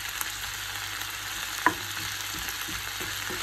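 Tuna in brine frying in a pan for a low-carb dish with Chinese cabbage, giving a steady close sizzle with one brief clatter of stirring partway through, no talking.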